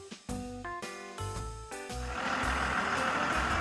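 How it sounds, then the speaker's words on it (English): Garbage truck backing up, a run of loud, evenly spaced reversing beeps over engine rumble, the beeps giving way to a steady broadband hiss of air and engine noise toward the end. "Garbage truck."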